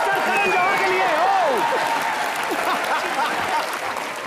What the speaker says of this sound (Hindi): एक बार जोरदार तालियां हमारी इंडस्ट्री के most popular producer director mister Karan Johar के लिए